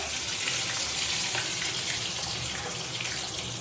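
Rohu fish pieces fry in hot oil in a kadai, giving a dense, steady hiss and crackle that stays loud and even throughout.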